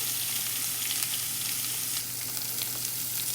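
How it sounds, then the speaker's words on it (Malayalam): Gooseberries, green chillies and curry leaves fry together in a hot pan while being stirred, giving a steady, close, even sizzle and hiss throughout with no voices. "നെല്ലിക്ക, പച്ചമുളക്, കറിവേപ്പില എല്ലാം കൂടെ ആഡ് ചെയ്യാം. എന്നിട്ട് നന്നായിട്ടൊന്ന് ഇളക്കിയെടുക്കാം."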